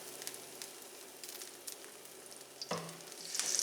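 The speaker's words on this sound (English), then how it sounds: "And then I'm going to increase the heat. Add another couple of tablespoons of vegetable oil." Vegetable oil heats in a hot skillet for fried rice, giving a soft, steady sizzle with a brief louder crackle near the end. No one speaks.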